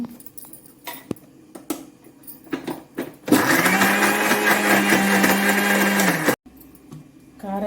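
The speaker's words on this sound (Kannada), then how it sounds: "ಆಮೇಲೆ ಮಿಕ್ಸಿಗೆ ಹಾಕಿ ರುಬ್ಕೊಳ್ಳಿ" A kitchen mixer grinder blitzing fried spices with water, a loud steady whirring motor running for about three seconds between scattered clinks and handling knocks.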